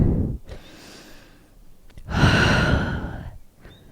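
Slow, deep breaths during a held yoga pose, with a long soft exhale followed by a fuller, louder breath that swells and fades, close and alone without talk.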